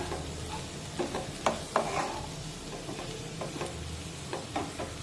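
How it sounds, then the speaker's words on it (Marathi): A spoon stirs dry potato sabzi in a pan, giving soft, scattered scrapes and taps over a faint, steady sizzle. "आणि भाजी पुन्हा एकदा व्यवस्थित हलवून घेऊया"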